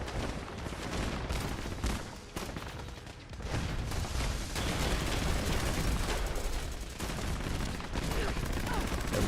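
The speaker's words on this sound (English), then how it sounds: "Everybody's just shooting." Dense, continuous video game gunfire from many weapons at once in a nuclear-event setting with bounties and raids, a steady barrage of overlapping shots and booms with no clear pauses.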